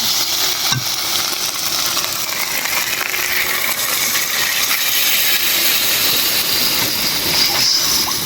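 Onion, garlic, ginger and cumin pastes with bay leaf, cumin and green chillies sauté in a pan for duck curry. A loud, dense, continuous sizzle and hiss fills the whole stretch, with a faint scrape or two and no voices.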